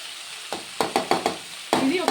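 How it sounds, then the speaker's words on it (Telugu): Broad beans cooking with fenugreek in a pan for a curry, with a soft sizzle broken by a run of sharp, close scraping strokes from stirring at an uneven rhythm. "ఇది ఒక 2 నిమిషాలు మంచిగా ఫ్రై అవ్వాలి"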